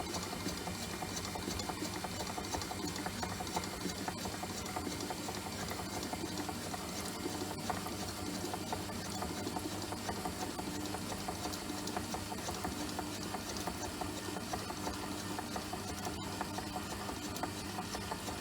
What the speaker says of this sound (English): we will slowly pour this while the mixer will be running